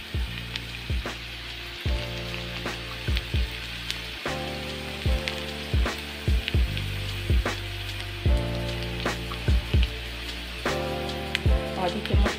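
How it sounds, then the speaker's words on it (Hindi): Nigella seeds and spices sizzle steadily in hot oil in a pan, a dense continuous fry with scattered pops and crackles, close and loud, with no voices over it. "कलौंजी भी भुनी जा रही है।"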